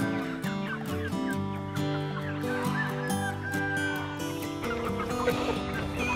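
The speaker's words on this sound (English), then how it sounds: "Got a couple of rogue chickens." Chickens cluck and call on a farm, mixed with honking fowl, a busy continuous chorus of overlapping birds close by.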